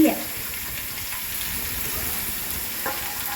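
Sliced onions hit a hot pan for a home-style chicken curry, giving a brief initial splash before a steady, moderate sizzle that continues throughout, with faint stirring noises.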